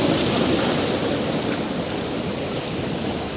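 Ocean surf washes in as a broad, steady rush of white water, loud and close, with no talking.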